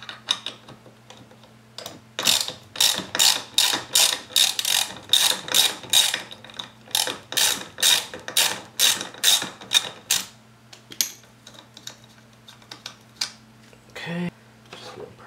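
A ratchet driving a Torx T30 bit clicks through rapid bursts of close, sharp pawl ratcheting while a fastener comes out during Porsche 997 911/987 Cayman seat removal, with short pauses between strokes and a faint low hum underneath.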